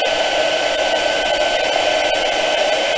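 A heat tool blows steadily and loudly close by while setting embossing powder on a craft border, a constant even whooshing roar with no pauses or talking.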